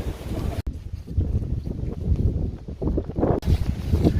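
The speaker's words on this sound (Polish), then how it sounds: "tak wieje, że po prostu Armagedon" Strong wind buffets the microphone beside a fishing canal, a steady low roar with gusty swells and a brief dropout partway through, with no talking.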